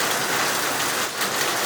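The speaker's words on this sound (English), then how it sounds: "Very small hail. Bigger stuff." Small hailstones fall in a storm at Bogee, New South Wales, as a dense, loud, continuous hiss and patter with no pauses and no voices.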